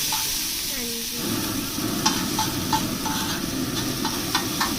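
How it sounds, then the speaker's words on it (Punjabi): Kulchas sizzle steadily in a hot pan, with repeated scraping and stirring strokes. "ਕੁਲਚਿਆਂ ਨੂੰ ਤੜਕਾ ਲਵਾਤਾ"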